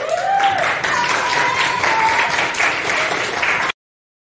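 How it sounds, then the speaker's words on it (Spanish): Students applaud together for about four seconds, a dense burst of clapping with a few raised voices mixed in, then it cuts off abruptly. "Nada, un aplauso para todos ustedes."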